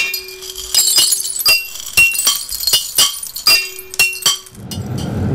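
Molten glass on a blowpipe is rolled back and forth during glassblowing, giving a run of loud, bright metallic clinks in an uneven rhythm, then a brief rushing noise at the end.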